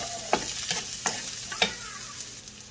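Zucchini being lightly fried in a pan, a spatula scraping and tapping every half second or so over a soft, steady sizzle, close and alone.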